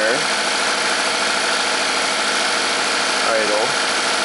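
A Chevy Equinox engine idles after repair work on a low-power fault, a steady close rumble that holds throughout with a faint voice over it.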